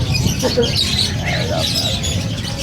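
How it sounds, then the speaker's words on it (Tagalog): Pigeons coo and flutter at a crowded pigeon and livestock market under a market arcade, soft bird calls scattered over a constant bed of crowd murmur and nearby voices. "Kalapati, madami."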